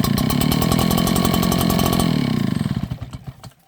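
A Stihl BR700 backpack blower engine races loudly and steadily, then sputters and dies out into uneven chugging pulses as it fails to keep running.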